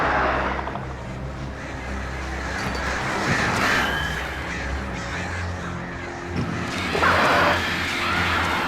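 Crows caw harshly in the video game Alan Wake as birds swarm and attack amid a dense, loud wash of flapping and clatter, with cries rising above the noise several times.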